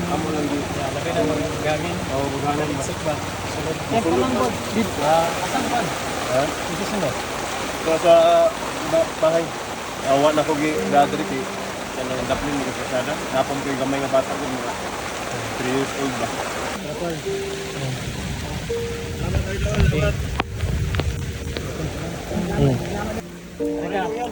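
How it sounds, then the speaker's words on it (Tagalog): Heavy rain pours steadily throughout while people talk over the constant hiss. "sobrang lakas ng ulan"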